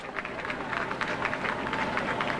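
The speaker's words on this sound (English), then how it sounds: "People are clapping." An outdoor crowd claps at the 1987 rescue of Jessica McClure, with brisk, steady, fairly distant applause behind a reporter speaking over it.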